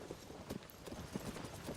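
Horses trot with soft, rhythmic hoof clip-clops in the open-world game Zelda: Tears of the Kingdom, the steps quiet and somewhat distant over a faint ambient background.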